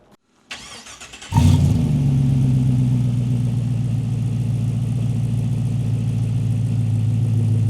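A Land Rover engine on a custom rebuild cranks briefly, catches with a loud start, then settles into a steady, throaty idle through the exhaust, recorded close by with no talking.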